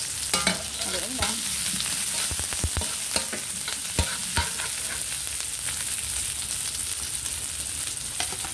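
A spoon scrapes and stirs sautéing onion in a pan of hot oil and coconut milk for ginataang langka, a continuous close sizzle with irregular taps and clacks of the utensil against the pan.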